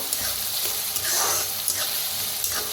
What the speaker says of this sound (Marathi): गरम असं तेलात भाजून घेऊया